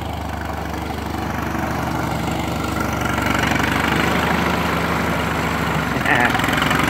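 A 1951 Ferguson TE 20 tractor engine runs steadily at idle, a continuous low chugging throb, close by, with a slight rise in level near the end and voices talking over it.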